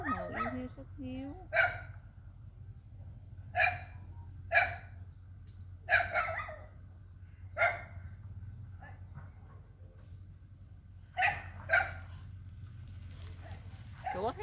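Dog barking outdoors in an old longan orchard, a series of short sharp barks in scattered bursts, heard clearly under people chatting nearby with a steady low hum behind.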